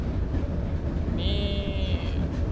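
A train rolls along rails in the Charles Train horror video game, a steady close rumble of the carriage with a high squeal that rises midway, while someone says a word over it.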